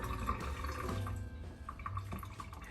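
A kitchen tap runs briefly while a spoon coated in mayo is rinsed, a soft close trickle with small drips and splashes.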